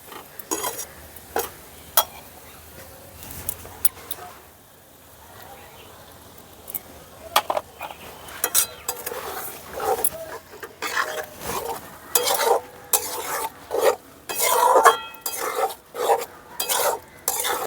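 Fried potatoes with tomato and yogurt in a thick masala, stirred and scraped around a pan for small red potato aloo dum, giving irregular bursts of scraping and clinking with a faint sizzle, close by, mostly without talk.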